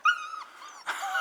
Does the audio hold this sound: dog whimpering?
yes